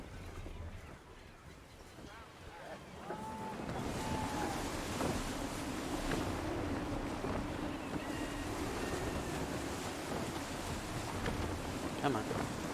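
Gusting wind and rolling ocean waves around a sailing ship in a game, a steady rushing wash with creaks and a voice speaking over it.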